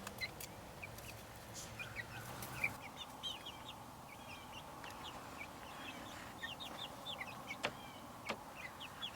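Chickens cluck softly at a distance in short scattered calls over a quiet, low outdoor hum.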